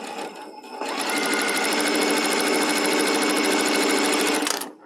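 A sewing machine runs steadily for about four seconds, stitching a quilt block seam, its fast, even needle rhythm loud and close after a short quieter start, with no talking over it.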